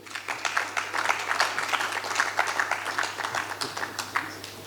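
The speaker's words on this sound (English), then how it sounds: "Please, a round of applause for him." Conference audience applauding, a dense steady patter of many hands clapping at once, moderately loud and sustained across the whole stretch, with a low constant hum beneath.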